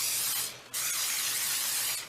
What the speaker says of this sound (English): So I'm going to use spray oil